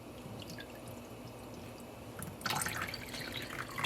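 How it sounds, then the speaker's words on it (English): A dye bottle being rinsed out with water, faint dripping at first, then a louder burst of splashing and gurgling liquid partway through. "We can rinse out this bottle a little bit"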